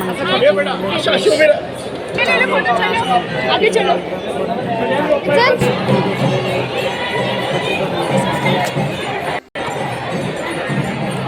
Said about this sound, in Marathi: गणपती बघायला गेल्यानंतर खूप गर्दी होतो